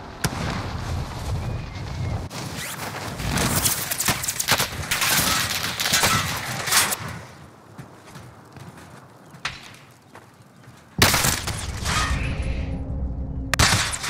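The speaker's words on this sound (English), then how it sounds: "Oh god, I'm getting shot from behind." Gunfire in a video game firefight, with loud bursts of shots and impacts coming in dense clusters, dropping to quieter stretches and then returning sharply near the end.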